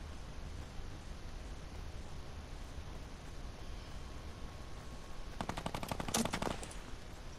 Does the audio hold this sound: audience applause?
no